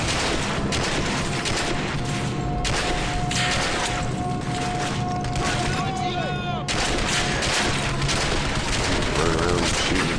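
Dense, continuous gunfire in the PC shooter Turning Point: Fall of Liberty, loud bursts layered with explosions and game effects, heavy throughout.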